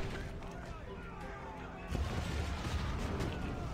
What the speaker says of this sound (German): Das Magazin ist explodiert.